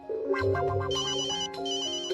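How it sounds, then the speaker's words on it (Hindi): Phone ringing indoors with a melodic electronic ringtone, a bright sequence of tones rising and shifting in pitch, clear and fairly close with no voices over it. "लगता है बॉस का फोन है।"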